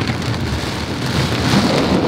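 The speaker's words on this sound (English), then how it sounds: "Florida's plan was to rain all day" Heavy Florida rain pours in a loud, dense, continuous roar of drops hitting surfaces, close and steady without pauses and with no voices.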